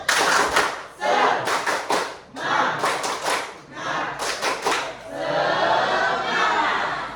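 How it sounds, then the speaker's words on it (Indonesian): A classroom of music students does a rhythmic spirit clap, clustered claps in patterned bursts with shouted voices mixed in, closing in a sustained wash of clapping, loud and close. "Tepuk semangat."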